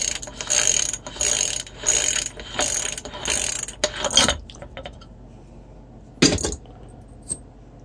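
Ratchet wrench loosening a bolt on an e-bike hub motor being recycled, giving several bursts of close, loud rapid clicking in a rhythmic series, then a pause and one more short burst, with no speech.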